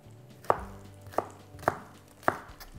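A knife chops artichokes finely on a board, four sharp, evenly spaced cuts ringing out close and clear with quiet pauses between, no voices.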